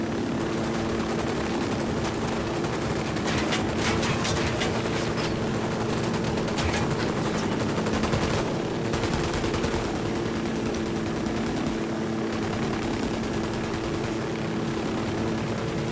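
Gunfire in Ghost Recon Wildlands: dense, continuous automatic weapon bursts over a steady low helicopter rotor drone, loud and sustained throughout without pause.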